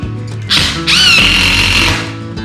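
A power drill drives screws into a wooden work table, the motor whining up loudly, straining with a high squeal as a screw seats, then winding down, close and without talk.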